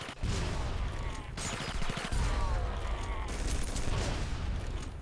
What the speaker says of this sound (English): I'm using a grenade launcher for God's sake.